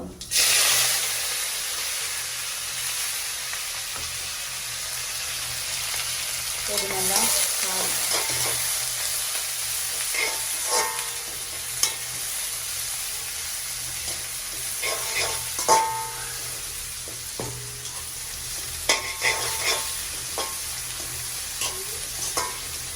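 Fennel seeds, onion, green chili and curry leaves fry in hot oil in a home kitchen. A loud sizzle fades gradually, broken by repeated scraping stirs and clinks of a spoon against the pan.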